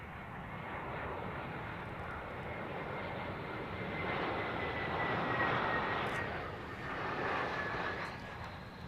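An airplane at London Heathrow Airport roars past with a broad engine rumble, swelling louder midway and easing off, heard alone with no talk.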